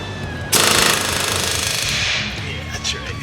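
A Snap-on pneumatic air hammer bursts into rapid, loud, continuous hammering in a garage during Subaru Outback rear wheel bearing work, close by and fading near the end.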